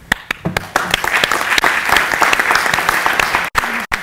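Audience at an architecture lecture by Jacob van Rijs at Florida International University claps loudly and steadily for the speaker, a dense wash of hands that swells and then breaks off abruptly near the end.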